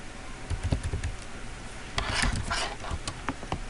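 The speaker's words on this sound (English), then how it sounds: "Just type it and you can just easily type this capture." Fast, light clatter of a computer keyboard as a captcha is typed in, with irregular bursts of close keystrokes and brief pauses.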